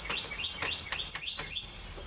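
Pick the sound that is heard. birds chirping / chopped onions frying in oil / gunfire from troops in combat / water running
birds chirping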